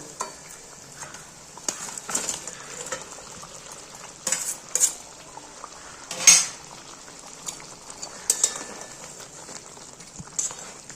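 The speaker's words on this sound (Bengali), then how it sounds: "দেখছেন দু তিন মিনিট ধরে আমি এইভাবে ভালো মতো গ্রেভিটাকে ফুটতে দিলাম" Bhetki fish curry gravy bubbles in a pan with fried fish pieces on the bone, a soft steady simmer punctuated by sporadic louder clinks and stirring knocks of a utensil.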